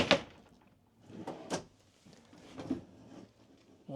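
A storage drawer in a 2025 Forest River RiverStone 421FK RV slides and knocks several times, sharp thumps and clacks at irregular intervals with quiet gaps between.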